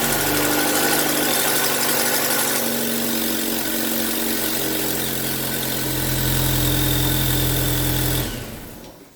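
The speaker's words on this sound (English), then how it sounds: "After that's done, start the engine." A 2006 Audi A4 engine runs at a steady idle after an oil change, a loud, even mechanical hum with a brief shift in tone partway through before cutting off at the end.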